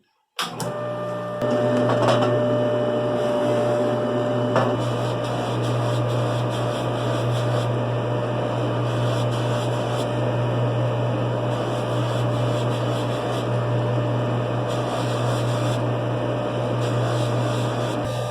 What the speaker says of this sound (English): if you grind too hard into the felt wheel with sticky compound like this, it'll pull the stone right out of your hand